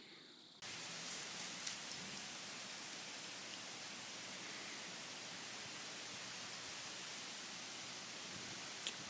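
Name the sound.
wind blowing outdoors in cold weather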